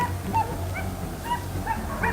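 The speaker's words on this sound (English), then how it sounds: "The sharp barking of the hunting dogs and the shouting of our teammates added to the tension." Hunting dogs barking and yipping during a wild boar hunt, several short close barks and whimpers scattered irregularly over a low rumbling background, with no talk.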